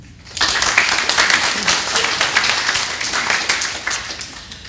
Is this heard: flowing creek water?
no